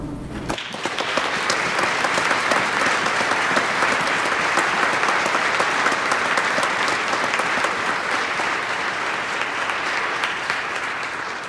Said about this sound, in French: on pourrait y aller d'une bonne main d'applaudissements